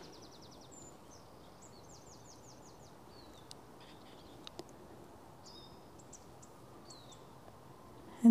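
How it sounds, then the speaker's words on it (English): Birds sing in Alice Holt Forest, Hampshire: faint, distant, scattered chirps and short trills over a quiet, steady woodland background. "Maybe it's the wind in the trees, the birds."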